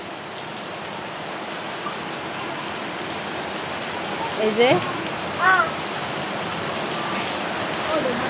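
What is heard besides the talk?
rain falling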